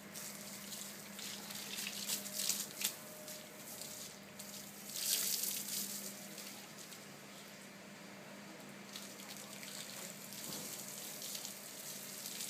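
A garden hose sprays water in a continuous hissing rush at a home, fairly quiet, with brief louder splashes where the stream hits surfaces.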